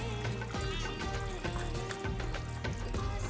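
Meat curry bubbles in a pan as the meat's juices simmer, a steady dense sizzle with repeated soft pops and bursts.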